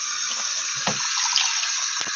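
Tap water runs from a faucet in a steady, loud hiss that fills the whole stretch, close by, with a couple of brief knocks in the middle and near the end.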